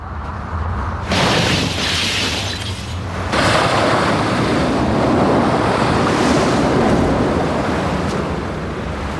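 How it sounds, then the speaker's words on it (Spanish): Violent wind above 215 km/h lashing a city of skyscrapers, a dense continuous roar that surges louder after the opening second and then holds steady, with no voices. "Vientos de más de 215 kilómetros por hora sacuden a los rascacielos."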